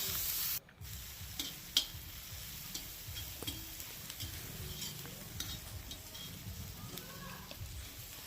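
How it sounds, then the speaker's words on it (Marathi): Tomato sautéing in a pan for an onion and dried bombil (Bombay duck) chutney gives a steady soft sizzle with scattered scraping stirs, continuous and close, with no talk. "आता बघा टॅमॅटोसुद्धा टाकून घेतला तो सुद्धा आपल्याला असं चांगला परतून घ्यायचा आहे"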